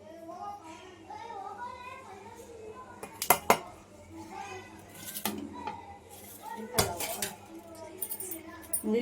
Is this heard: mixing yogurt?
yes